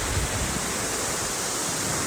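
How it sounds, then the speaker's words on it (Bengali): Hajachhara waterfall pours in a constant, loud, close roar of falling water, a dense unbroken rush with no pauses. "খুবই সুন্দর একটি ঝর্ণা"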